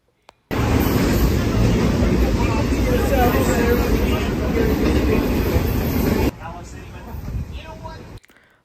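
CSX freight train led by a Dash 8 locomotive passing at Fullerton, California, a loud continuous rumble and clatter of rolling cars with crowd chatter mixed in, which cuts off abruptly and leaves a quieter, muffled stretch.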